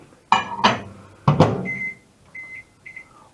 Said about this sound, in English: stick it in the microwave, and that's it